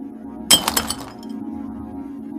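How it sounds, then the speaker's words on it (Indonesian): A small glass bottle shatters in one sharp burst of breaking glass and brief tinkling fragments, loud and close, then settles into a low steady hum. "Botol pecah, cairan minyak menyiram kepala tuyul itu."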